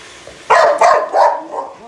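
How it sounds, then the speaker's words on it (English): A boxer dog barks indoors, three or four loud, close barks in quick succession with a whimpering edge. "Oh, why are you barking?"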